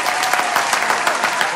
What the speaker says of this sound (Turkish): alkışlarla başlıyor